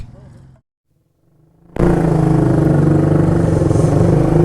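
A motorcycle carrying a pillion rider cruises in fifth gear on a highway at night; after a brief murmur and a near-silent gap, a loud, steady roar of engine and wind rushes in and holds to the end.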